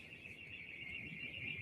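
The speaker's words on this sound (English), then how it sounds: "You can hear the car alarms going off." Car alarms in Tel Aviv after an explosion: a steady, high-pitched alarm tone wails in the distance, constant and unbroken, over a low rumbling background.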